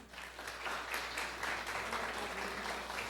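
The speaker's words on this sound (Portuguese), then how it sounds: "Você pode aplaudir o Senhor?" Steady applause from a church congregation, dense and sustained throughout with no pauses, moderately loud and filling the room.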